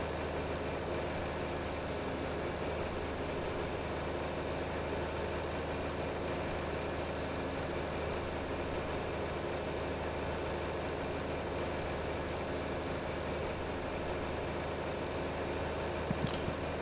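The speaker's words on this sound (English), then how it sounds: "this is kind of a loud tractor" A loud tractor engine in a farming video game idles steadily with a low, heavy rumble, unbroken for the whole stretch, with a few faint clicks near the end.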